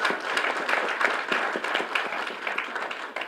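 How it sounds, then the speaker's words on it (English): Audience applauding both sixth-grade quiz teams after a close match, a lively round of individual claps close by, steady and unbroken across the few seconds. "Let's have a big round of applause for both teams."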